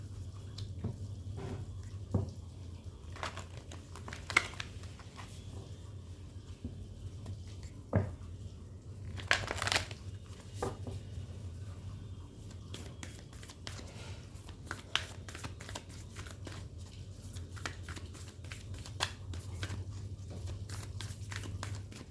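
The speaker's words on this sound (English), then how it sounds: "let me pull out some cards for you from the Moonology deck" Moonology oracle cards being shuffled and pulled by hand, a run of soft papery flicks and taps at close range over a steady low hum, with no one talking.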